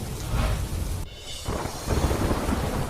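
Heavy rain pours down in a rural area in a steady, dense roar, with deep rumbling underneath and a brief dip in the middle before the downpour surges back.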